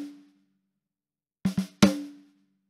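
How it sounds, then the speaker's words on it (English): Snare drum from a GGD P4 drum library, picked up with both top and bottom microphones, plays a short pattern of sharp crisp hits. A ringing tail fades out, then comes a quick double stroke and a louder single hit. "For the snare, you get your usual snare top microphone and snare bottom microphone."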